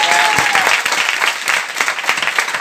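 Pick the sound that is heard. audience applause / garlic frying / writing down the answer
audience applause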